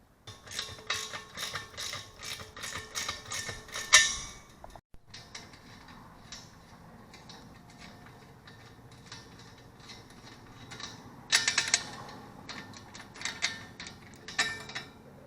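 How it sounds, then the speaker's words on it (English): A ratchet with a 1/2-inch socket loosens the bolts holding a propane tank mount, giving bursts of rapid clicking, a short pause, then more clicking with light metallic handling, close by and without talk. "This I'll be using a 1/2-inch socket."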